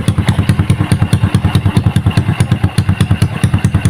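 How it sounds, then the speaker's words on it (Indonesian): Rebuilt Honda Supra 125 motorcycle engine running close by with fresh bearings, a steady, even thumping beat at idle, loud and unbroken with no talk over it. "Si mesinnya ini sudah hidup dan suaranya ini sangat adem ya teman-teman"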